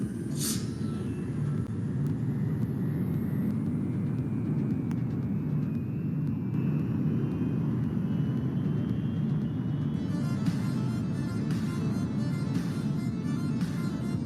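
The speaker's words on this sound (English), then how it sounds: "Initiating takeoff." An aircraft takeoff sound effect builds as a steady, dense low engine roar with a rising whine, continuous and sustained throughout at moderate level, with no speech.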